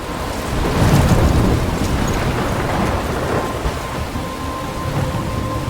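Thunderstorm with heavy rain in the video game Life is Strange: a dense, steady rain roar with rolling thunder swelling early on, loud and continuous, with no talking.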